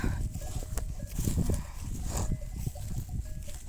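A flock of sheep grazing on open pasture gives a close, fairly quiet mix of shuffling hooves, rustling and scattered animal calls, continuous through a few seconds.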